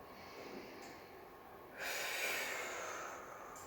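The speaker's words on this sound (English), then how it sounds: "exhaling back up" A single forceful exhale through the nose during a reformer Pilates push-up, rising from a quiet breath into a loud, breathy rush that lasts a couple of seconds and tapers off, close and with no talking.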